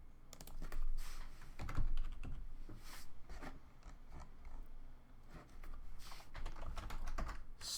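Rapid clicking keystrokes on a computer keyboard while writing Rust code, bursts of close, crisp taps with brief pauses between runs.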